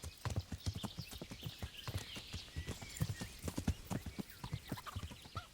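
Steady clip-clop of horse hooves at a brisk trot in the video game Kingdom Come: Deliverance, many quick hoofbeats close by over a faint background hum.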